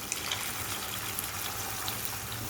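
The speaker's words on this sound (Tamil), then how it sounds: "இந்த ஸ்டேஜில் 1 கப் அளவு தண்ணி சேர்த்துக்கோங்க." Water trickles steadily into a pan of parotta salna, a soft continuous pouring splash with no talk over it.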